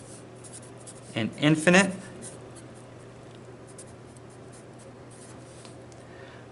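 A quick burst of writing strokes on a board during a calculus lesson on antiderivatives lasts about a second, scratchy and close, amid faint room noise, with a voice speaking briefly.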